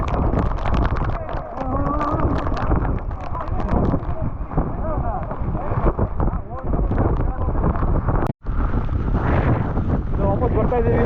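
Strong wind buffets the microphone on the rocky Gangadikal trek in heavy rain, a loud, roaring gusty rush that hardly lets up, with people talking beneath it.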